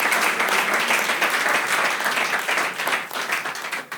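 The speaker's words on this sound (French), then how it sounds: "Viens, on applaudit pour lui." An audience applauds a volunteer called up on stage, steady, dense clapping from many hands that holds at full strength for several seconds before starting to break up into scattered claps.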